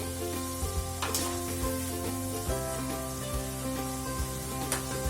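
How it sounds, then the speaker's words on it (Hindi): French fries deep-frying in hot oil at the halfway point of a first fry, giving a steady dense sizzle with occasional brief pops, close and continuous with no voices. "इसे हम एक बार निकाल लेंगे, बाद में दूसरी बार फ्राई करेंगे।"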